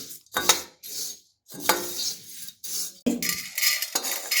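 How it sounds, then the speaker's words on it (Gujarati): Roasted poha being tipped from a kadhai into a separate vessel, with several clattering bursts of metal pans and spoon scraping close by, separated by brief pauses; no talking. "પૌવાને આપણે એક અલગ વાસણમાં કાઢી લઈશું"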